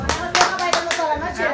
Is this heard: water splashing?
no